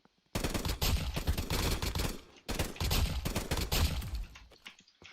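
Rapid automatic gunfire in a shooter video game, two long loud bursts of fast shots separated by a brief pause, then tapering off near the end, with no talk over it.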